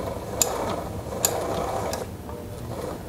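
A Sailrite walking foot sewing machine stitches a blind seam through two layers of 2.5 ounce upholstery weight leather, giving a steady mechanical whir with sharp clicks near the start and middle, close and alone.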